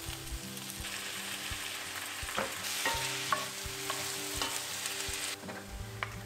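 Red pepper wedges, diced ripened tomatoes, eggplant and zucchini stewing in tomato puree over low-medium heat, a steady close sizzle and bubble with occasional soft stirring clicks, no voices.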